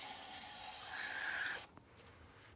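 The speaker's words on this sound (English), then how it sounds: "And then move stuff around and spray some more" An aerosol can sprays cleaner onto the sticking throttle of a 1989 motorcycle, a loud, close, continuous hiss lasting about a second and a half before it cuts off sharply, followed by a few faint clicks.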